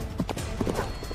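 Cartoon horse hooves clip-clopping in a quick, uneven rhythm of several light knocks, close and fairly quiet, set in a Malayalam kids' animated story about a horse race.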